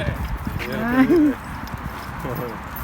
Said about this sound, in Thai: ส่วนมากเขาก็จะ เอาม้ามาขี่กันนะคะ เพราะว่าในส่วนนี้เขาอนุญาตให้ ขี่ม้าได้ด้วยนะคะ